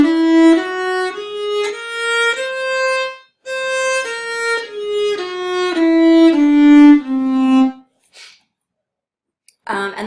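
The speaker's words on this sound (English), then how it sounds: "Debussy used the whole tone scale" A whole tone scale in the manner of Debussy, played as clear sustained notes that climb step by step and then descend again over about eight seconds, followed by a brief pause.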